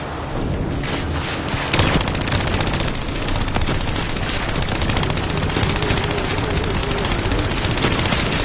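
Sustained turret gunfire roars continuously in Call of Duty Black Ops 3, a dense, loud stream of rapid shots and booms during a vehicle escape, with little talk audible.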